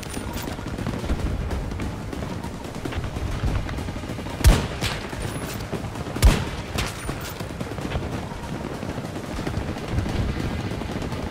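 Two sharp, loud DXR-1 sniper rifle shots in Battlefield 2042, a couple of seconds apart, stand out over a constant background of rumbling noise and faint distant fire.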